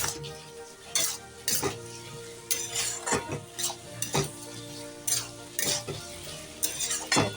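Soybean chunks, paneer and egg being stir-fried in a pan, a soft sizzle broken by regular scraping clinks of a metal spatula against the pan.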